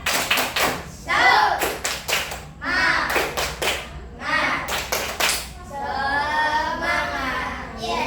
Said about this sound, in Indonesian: yuk kita tepuk semangat